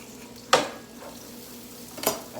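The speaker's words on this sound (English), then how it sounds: "And I'm going to add some butter and oil. I'm going to add the onions." Onions hit sizzling butter and oil in a pan with two sharp hissing splashes, a faint clatter and steady frying between them, and no talk over the sound.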